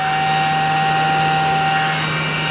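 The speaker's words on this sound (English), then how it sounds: "And when you press that, it sucks up drills here on I guess through the middle hole there, it sucks them up." A handheld vacuum for diamond painting, sucking up spilled drills, runs continuously and loudly with a steady high-pitched motor whine and constant airflow hiss, without a break.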